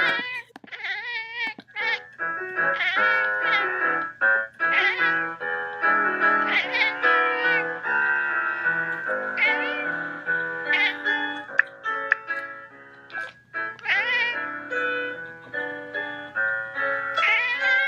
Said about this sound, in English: Oh, here we go. We got the kitty cat.